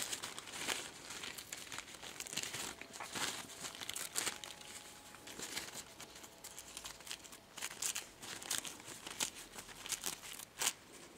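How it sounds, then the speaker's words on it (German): A paper napkin motif is torn out by hand, quiet close-up crinkling and ripping in short irregular bursts with rustling in between, no talking. "Das reißen wir doch noch mal per Hand raus."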